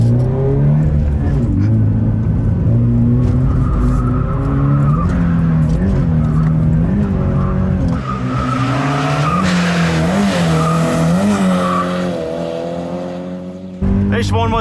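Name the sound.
Toyota GT86 drifting, 150 horsepower boxer engine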